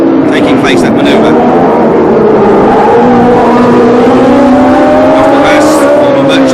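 Formula 1 cars racing at the 1976 Long Beach Grand Prix street circuit, engines droning loudly and continuously with shifting pitch as cars pass, under a commentator's steady voice.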